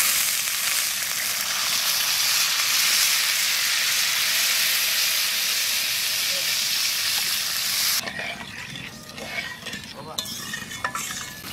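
Water poured into a pan of fried spice paste for a catfish curry erupts into a loud, steady sizzle and hiss that runs for about eight seconds, then breaks into softer bubbling and stirring scrapes.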